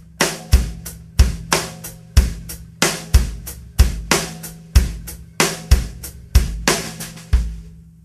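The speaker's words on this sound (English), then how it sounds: "Kick on 1, snare on 2, kick on and of 2, kick on and of 3, snare on 4." A drum kit plays a steady groove in which kick and snare hits alternate while the hi-hat foot pedal keeps even eighth notes throughout. It runs for about eight seconds, close and clear, with no talking.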